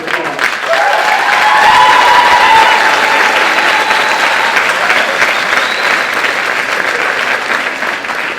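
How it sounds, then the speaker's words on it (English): An assembly audience breaks into loud, sustained applause, a dense wash of clapping that swells within the first second and holds steadily for about eight seconds with no speech over it. "So give her a round of applause."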